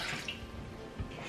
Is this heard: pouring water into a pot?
yes